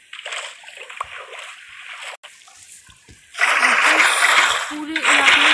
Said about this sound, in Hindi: जैसे ही हम नीचे पानी डालेंगे